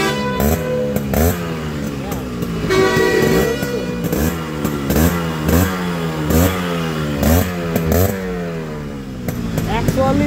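Yamaha RX 100 motorcycle engine revving repeatedly in a rising and falling pattern, loud and close, with people talking over it.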